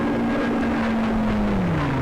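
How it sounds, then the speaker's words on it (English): An Avro Lancaster bomber drones past in Civilization III, a loud, steady engine hum holding one pitch and then sliding lower as it passes, with no voices. "That's a Lancaster, in case anyone's not aware."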